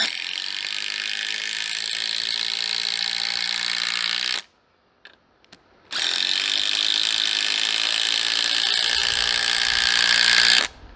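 A budget cordless impact driver set on high drives a long screw, a loud continuous rattling hammer whir running about four seconds, a brief pause with faint clicks, then another long burst ending in a sharp stop.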